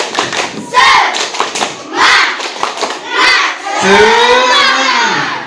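Schoolchildren in a classroom shout and clap through a group cheer, loud bursts of chanting voices with thumping claps in rhythmic phrases, ending in a long, sustained shout.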